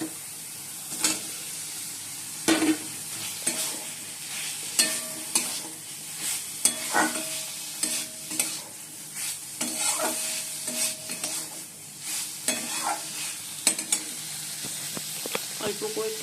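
Paneer being sautéed with ginger, green chilli, tomato and poppy seed paste, a steady sizzle under repeated scraping stirs and clinks of a spatula against the pan, close and fairly quiet, with no talk.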